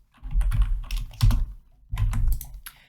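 Typing on a computer keyboard while writing JavaScript code, heard as close, loud bursts of rapid key clatter in three clusters separated by brief pauses, with no talking.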